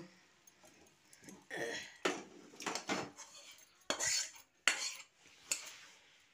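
Prawn curry cooked with onion greens is served from the pan with a series of close, uneven scrapes and metallic clinks of a spoon against the cookware, separated by short quiet gaps.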